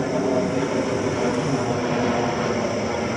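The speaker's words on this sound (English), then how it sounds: "this plane's trying to fly through the moon" An airplane flies overhead at night, its steady engine drone filling the whole stretch loudly and evenly with no voices over it.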